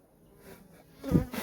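A brief burst of buzzing honey bees on a hive frame rises near the end after a faint, low hum, close by and moderately loud.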